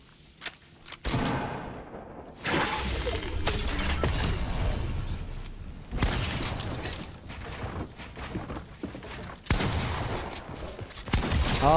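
Sustained bursts of combat assault rifle fire in a battle royale-style shooter game, dense rattling volleys with breaks between them, loud and close, mixed with impact and building-hit sounds.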